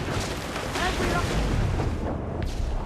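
Ship cannons boom during a naval battle in Assassin's Creed IV Black Flag, deep rumbling blasts that roll under shouted voices.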